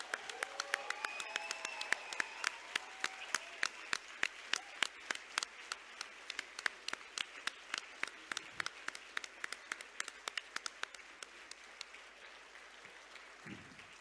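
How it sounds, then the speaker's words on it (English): Graduation audience applauding speakers at an MBA class address, dense clapping swelling then thinning into scattered individual claps toward the end. "Please join us in giving them a huge round of applause"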